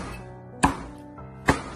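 Two sharp cleaver chops into raw chicken feet on a cutting board, spaced under a second apart, each a loud close thud with a ringing tail, then quiet.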